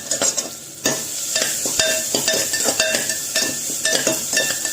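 Ginger garlic paste frying in a pan with sautéed tomato and onion, a steady close sizzle broken by repeated sharp clinks and scrapes of a spoon stirring against the metal.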